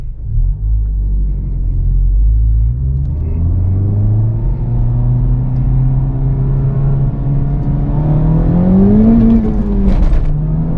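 E85-fuelled Infiniti G37 accelerating hard in first gear from a rolling start at 20, its engine droning loudly and rising steadily in pitch for about ten seconds before easing off near the end.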